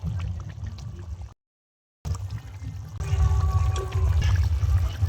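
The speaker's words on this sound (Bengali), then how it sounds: "মাছটা দিয়ে দিচ্ছি এবারে ঝোলের মধ্যে" Pieces of fish slide into simmering curry gravy in a home kitchen pan, a loud wet splash and sizzle set against a steady low bubbling, with a brief silent gap partway through.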